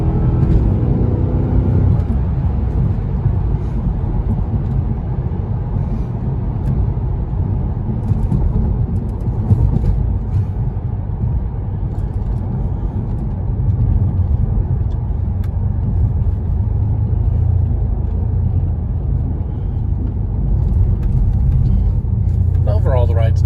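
A 2012 Mercedes S63 AMG drives steadily and slows with slow gear shifts, heard from inside as a constant low rumble of engine and road noise with little change and no distinct exhaust pops.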